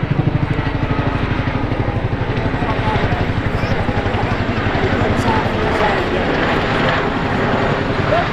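A loud, continuous roar from a Chinook twin-rotor helicopter at an air show, with the rapid rhythmic thudding of its twin rotor blades, steady and close throughout.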